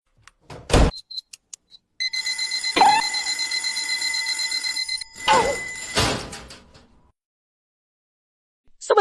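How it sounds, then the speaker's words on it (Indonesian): Alarm clock ringing at midnight, a loud sustained electronic ring that runs for several seconds, cut by a few sharp knocks and bangs like a door, then stops into silence. "Sebenarnya, siapa yang pasang alarm itu?"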